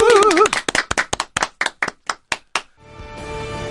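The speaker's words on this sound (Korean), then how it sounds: "자, 박수!" A short burst of a dozen or so hand claps, quick and uneven, following a brief voice, then fading into soft music.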